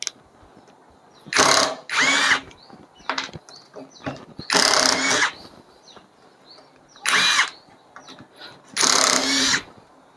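An OSUKA OSID-520 cordless impact driver drives one-inch screws into hardwood in several loud, whirring bursts separated by brief pauses and small clicks.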